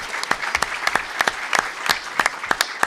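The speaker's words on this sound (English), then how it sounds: "round of applause" An audience at a City Club of Chicago event gives a round of applause, a steady patter of many hands clapping with scattered sharper claps, moderately loud, with no speech over it.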